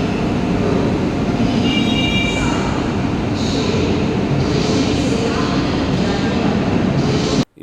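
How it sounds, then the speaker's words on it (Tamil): A Vande Bharat Express train idles and rolls at Chennai Central station, with a steady loud rumble, faint squeals and station noise throughout. "இந்த ட்ரெயின் தான் நான் வந்த train, Vande Bharat express from Madurai to Chennai."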